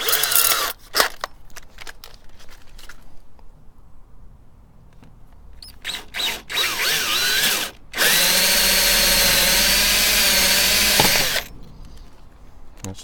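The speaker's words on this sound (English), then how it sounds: "So I'll put the tank cutter on first." Power drill fitted with a tank cutter boring through a motorcycle part, a sustained loud whirring grind lasting several seconds, preceded by short bursts and clatter of handling.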